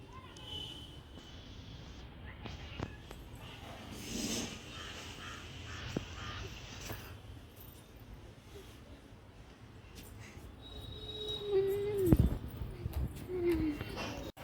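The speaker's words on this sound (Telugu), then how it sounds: "చూడు కాకి" A crow caws a few times, the harsh calls strongest near the end, over steady outdoor background noise while people talk nearby.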